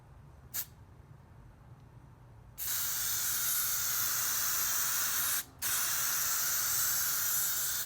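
Spray painting a 1989 Nissan Patrol on its third coat: a brief spurt, then a long steady loud hiss of the spray gun, a short pause, and another sustained burst.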